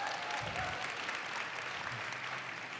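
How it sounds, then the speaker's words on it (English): Conference keynote audience applauds in a large hall, a continuous, even wash of many hands clapping heard from some distance at moderate level, with a brief low murmur of voices underneath. "So let's give Cody a big round of applause"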